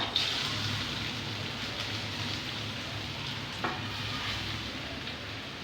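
Grated pumpkin stirred and fried in a pan gives a steady close sizzle with soft scraping stir strokes and a brief clink partway through, with no talk.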